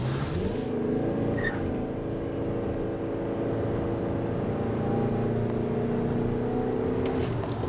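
Suzuki Across hybrid SUV with an eCVT gearbox accelerating, heard from the cabin as a sustained engine drone that climbs once in pitch and then holds a steady whine over road noise.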